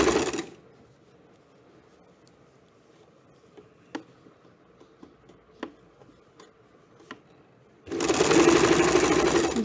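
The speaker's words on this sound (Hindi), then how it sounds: "बैक का आगे और पीछे के भाग का शोल्डर मैच करके आधा इंच की सिलाई लगाएंगे" Home sewing machine stitching a half-inch shoulder seam joining front and back pieces of a garment, a loud steady whirring run at the start and again at the end, with quiet fabric handling and ticks between.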